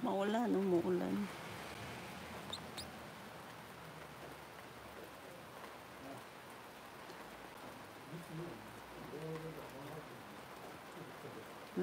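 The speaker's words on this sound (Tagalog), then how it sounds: "umuulan." Steady rain hisses softly throughout on a mountain, with a brief voice or tone near the start and faint murmuring in the background.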